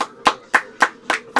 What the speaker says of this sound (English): Let's give applause for that.